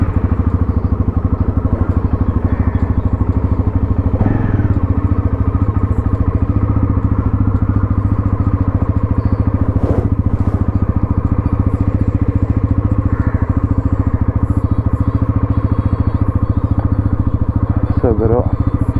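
An NS400 motorcycle engine runs steadily throughout, a close, continuous low rumble with slight clatter, while people talk over it.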